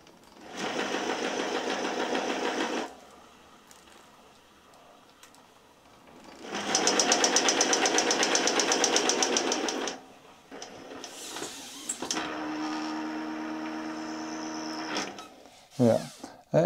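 A Bafang G32 front hub motor on an electric bike wheel runs with noisy, worn gears, a harsh mechanical whirring in bursts of a few seconds separated by pauses, the last burst lower in pitch.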